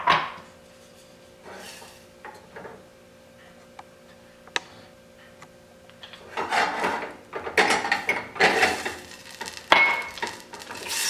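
Caramels melting in butter in a pan on a medium-low burner, stirred with a utensil for a pumpkin chocolate caramel pie. Quiet scrapes and clinks come first, then busier, louder stirring and pan noise, with no voice.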